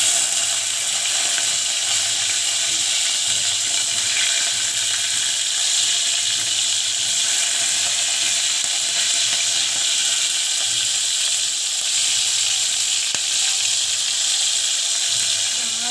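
Green chillies sizzle in hot oil in a pan, a dense, even hiss that holds steady and loud throughout with no pauses or speech.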